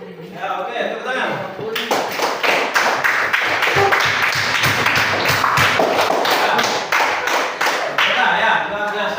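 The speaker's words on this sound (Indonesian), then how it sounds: "tepuk tangan." A classroom group claps in a burst of applause after a student presentation, loud, close, many hands at once, with a single voice speaking over the start before the clapping swells and then fades.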